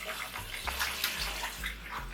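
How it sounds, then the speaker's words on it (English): Hands being washed under a running kitchen tap, a close, steady splash of water with small shifting gurgles over a couple of seconds. "Always wash your hands."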